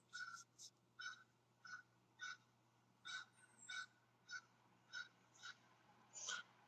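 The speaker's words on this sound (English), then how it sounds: "Crow has things to say." A crow calls repeatedly in a steady series of about a dozen short, harsh caws, moderately near, against a faint constant background hum.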